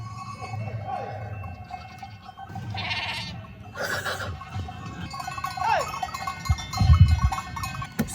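Goats bleat amid clanking cowbells close by, with shuffling movement and a brief low rumble near the end.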